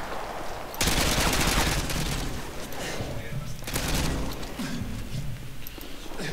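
Rapid gunfire from the video game Modern Warfare 2 during a LAN free-for-all match, dense loud bursts of automatic shots, with players talking over it.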